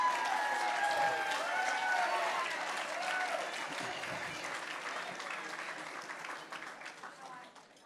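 Applause at a charity auction to end child abuse, a dense crowd clapping loudly at first and then slowly fading over several seconds, with voices mixed in.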